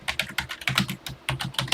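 A short program being typed at a steady pace on a TI-99 computer keyboard, each key giving a firm, close, clacky thud in a quick run of strokes.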